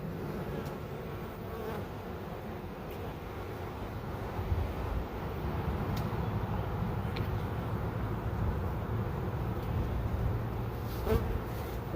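A swarm of honey bees being moved into a nucleus hive box in Uxbridge, Massachusetts buzzes in a low, continuous drone, faint and steady throughout with a few small bumps and no talking.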